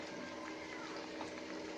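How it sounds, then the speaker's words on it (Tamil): Water pours steadily into a pot of potato kurma, a soft continuous splashing gush at low volume. "அந்த கொஞ்சம் கழுவி தண்ணி ஊற்றிக்கலாம்"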